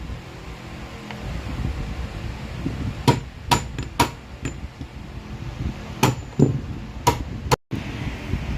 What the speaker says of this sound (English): drive the pin holding the 5th gear fork out using a pin punch supported with a socket